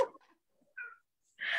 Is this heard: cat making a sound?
yes